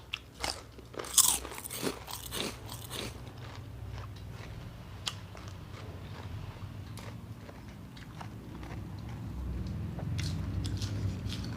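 Close, crunchy chewing and biting of large raw shrimp dipped in fish sauce, with sharp crackly bites early on that settle into steady, moist mastication, with no talking.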